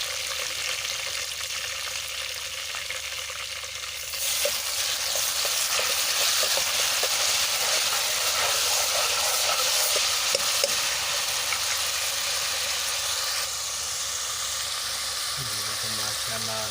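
Onion and garlic fry in a pan for chicken pulao, a loud steady sizzle with stirring scrapes that swells after a few seconds and holds, close and continuous.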